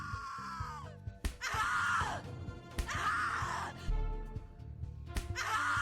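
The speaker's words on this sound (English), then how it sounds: "Scream louder, little bitch. Scream your lungs out." A woman screaming in the horror game The Cat Lady, several long anguished shrieks broken by sharp gasps and groans, loud and close, alternating with short pauses.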